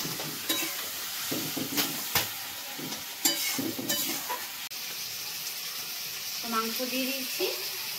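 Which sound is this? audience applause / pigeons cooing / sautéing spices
sautéing spices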